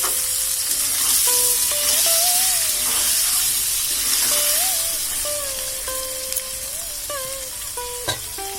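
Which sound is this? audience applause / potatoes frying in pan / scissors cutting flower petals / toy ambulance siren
potatoes frying in pan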